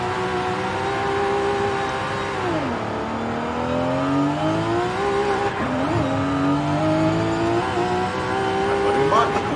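Toyota Supra 2020 and Nissan GT-R 2020 in a Forza Horizon 5 drag race, engines revving loudly with rising and falling pitch through gear shifts, a steady roar lasting throughout with voices talking over it.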